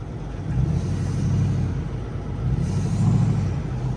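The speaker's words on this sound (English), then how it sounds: "Let's see if we can get the truck out." A truck stuck in sand and mud on a farm is pulled out with ropes, its engine giving a steady low rumble that swells and eases, with no talk.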